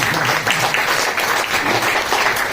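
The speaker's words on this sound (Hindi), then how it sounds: "इसलिए डबल ताली बजाएंगे।" A large crowd claps together at an outdoor public gathering in India, producing a dense, loud, continuous wash of applause without breaks.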